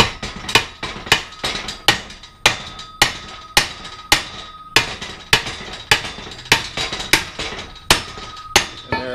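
A 3-pound sledge hammer strikes the C's of a Dana 30 axle on a 1990 Jeep Wrangler YJ, about twenty sharp metallic blows at an even pace with ringing decay, close and loud, no talking.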